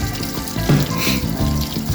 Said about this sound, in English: make sure the water flows right